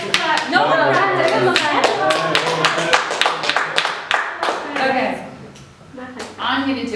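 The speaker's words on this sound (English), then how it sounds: "Come on. Let's clap." Audience members at a leadership and team-building session clap in sharp, fairly near strokes, loosely together at first, then thinning and tapering off, with a voice speaking briefly over the clapping.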